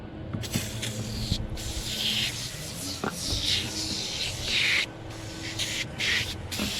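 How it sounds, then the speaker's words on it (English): Repeated hissing bursts of foaming aerosol engine cleaner sprayed close up on the Kohler engine of a Toro Recycler lawn mower, with a steady background hum between the sprays. "Today I'm using some super clean foam action aerosol."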